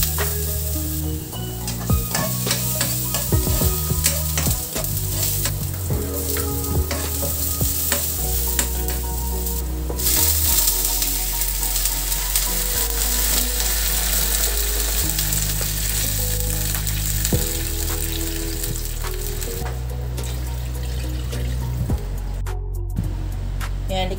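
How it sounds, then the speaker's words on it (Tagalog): Garlic, onion and leeks sauté in a pan with a loud, steady sizzle and crackle that runs throughout, punctuated by repeated stirring scrapes and a brief burst of hissing near the end. "So, magigisa na tayo."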